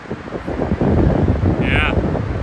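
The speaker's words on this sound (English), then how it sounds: "It's a little chilly out here with the wind blowing." Strong outdoor wind buffets the microphone on a foothills hiking trail, a loud continuous rumbling roar with a brief higher whistle partway through.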